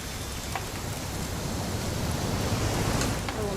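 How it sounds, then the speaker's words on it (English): Steady, dense rainfall from the video game What Remains of Edith Finch hisses continuously at an even level throughout, with no pauses. "It's gonna rain the whole weekend,"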